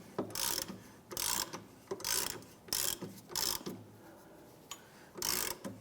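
Ratcheting clicks come in repeated bursts as a car jack is raised and lowered beneath a 2001-2005 Honda Civic while a rear shock bolt is worked loose, each burst loud and close with short pauses between.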